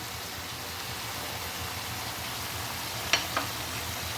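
Boiled potatoes being stir-fried in a pan for a mushroom curry give a steady, fairly faint broadband sizzle, with two brief clicks of a utensil near the end.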